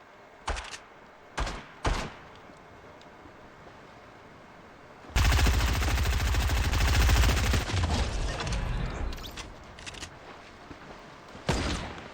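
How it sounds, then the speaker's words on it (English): Gunfire in the Fortnite video game: a few isolated shots early, then a long, dense burst of rapid automatic fire, loud and close, tapering into scattered shots. "What was that person shooting at me?"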